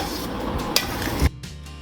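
A spice masala mixture for a Gujarati ker pickle being stirred in a vessel, with scraping and rubbing, a sharp clink partway through and a louder knock near the end before it quiets.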